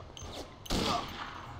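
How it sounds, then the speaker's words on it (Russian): A single loud rifle gunshot in the video game Mafia with the Gunsmith mod, a sharp crack in a back-alley setting followed by a short ringing decay, with a fainter pop just before it. "О, успел выстрелить."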